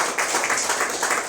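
A church congregation applauds together, a steady wash of many hands clapping that fills the space evenly from start to finish with no voices over it.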